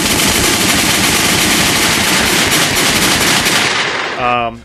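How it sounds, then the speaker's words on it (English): Rapid bursts of gunfire crackle continuously and loudly for several seconds, then stop suddenly. "Gunshots."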